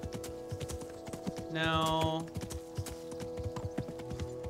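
Horses clip-clop at a stable in the video game Kingdom Come: Deliverance, with repeated close hoof knocks over a steady tonal hum, a brief whinny-like tone in the middle and a short spoken word.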